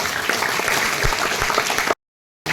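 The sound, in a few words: applause for the parents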